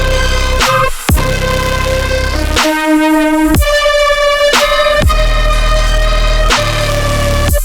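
Electronic song plays loud and full, with sustained synth chords, sharp percussive hits and a brief dropout near the start, and no one talking.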